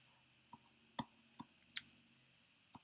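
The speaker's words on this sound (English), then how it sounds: "if we type it into our calculator" Keys pressed on a calculator keypad, about six sharp, faint plastic clicks at irregular intervals in a quiet room.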